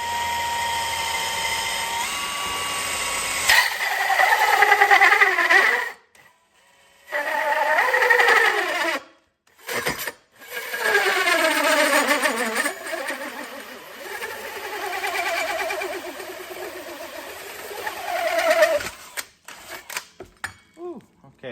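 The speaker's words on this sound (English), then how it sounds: "Kind of a cheap saw, but that was the worst one." A cheap saw cuts through a 5-inch piece while making a railroad wheel for a bike, loud rising-and-falling whining bursts broken by short pauses, ending in a few scattered clicks.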